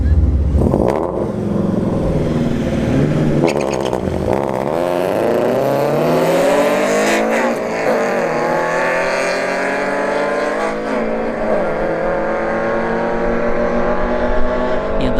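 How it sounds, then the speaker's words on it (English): A Subaru BRZ fitted with canards and splitters drag races a BMW 325 CI at a dragstrip, loud engines revving and climbing through gears with rising pitch over a long run, car noise close and continuous. "we have a Subaru BRZ here in the right lane with canards and splitters and everything, ready for road racing"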